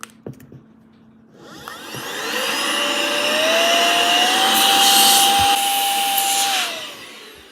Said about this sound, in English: It's just literally an air blower